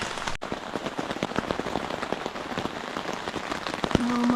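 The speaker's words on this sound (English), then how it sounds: "Oh, that's a heavy rain." Heavy rain pounds steadily on surfaces at an autumn canoe campsite, a dense close patter of countless drops with sharp individual splats, ending with a brief steady tone.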